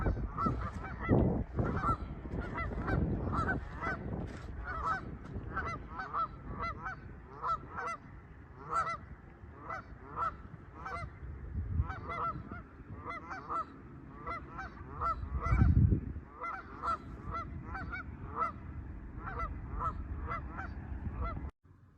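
A flock of geese honks repeatedly and overlapping, a steady clamor of calls throughout, with a low rumble of wind or movement underneath.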